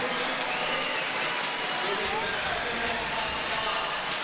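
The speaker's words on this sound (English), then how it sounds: "That crowd is fired up for Rayssa." A fired-up crowd cheers and applauds for skateboarder Rayssa Leal at a street skateboarding contest, a dense, steady roar of many voices filling the space throughout.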